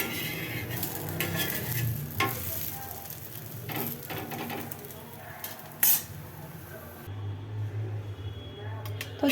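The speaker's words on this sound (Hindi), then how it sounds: "मैंने टिक्की बना के ये रख दी, इस पर डाल दी जी तवे पे" Potato and sago-powder tikki frying on a tawa griddle, with a soft sizzle beneath scattered clinks and scrapes of a utensil on the pan, and a few sharp knocks.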